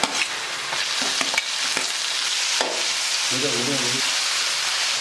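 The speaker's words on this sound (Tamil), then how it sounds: "தக்காளி வந்து பாதி வதங்கிடுச்சுங்க" Onion, green chilli and tomato sautéing in a pan, with a constant hissing sizzle and a few sharp spoon scrapes and taps near the start, then continuous frying with a brief low hum.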